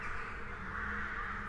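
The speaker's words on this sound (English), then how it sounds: "the crow sound doesn't usually happen, so I think there might be an emission outside." A crow caws once in the video game Stalker GAMMA, a short harsh call over a steady ambient background with no talking.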